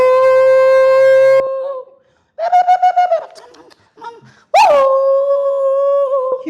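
A man imitates a dog with his voice, producing long whining howls and a burst of quick yelping barks. The sounds are loud and close, with short pauses between them.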